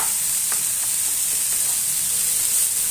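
Food fries steadily in a pan with a continuous bright sizzle and hiss, close and fairly loud, with a few faint clinks and no talk.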